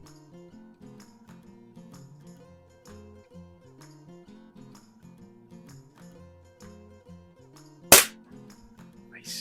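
A single sharp paintball shot from a Crosman marker cracks against a can, one loud isolated impact over quiet background murmur.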